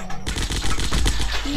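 Assault rifle gunfire in the Zombocalypse video game, a rapid, loud burst of automatic shots firing continuously and close up, with no talk over it.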